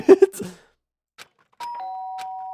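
Two-tone electronic doorbell chime inside the Danganronpa: Trigger Happy Havoc game, ringing out clearly after a stretch of near silence, a sustained bright ding-dong that holds to the end, following a brief burst of talk at the start.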